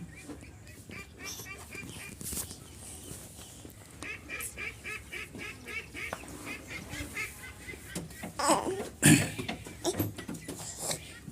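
Ducklings and chicks at a floating poultry house, with scattered honking and quacking calls near and far against outdoor ambience, a louder flurry of calls near the end.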